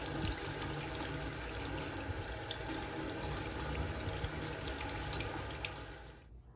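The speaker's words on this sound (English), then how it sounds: "now I am just going to wash the paint off of my stencil so that I can reuse my stencil" Water pours steadily from a tap as paint is rinsed off a screen printing stencil, a broad continuous splash that holds level for about six seconds and then stops.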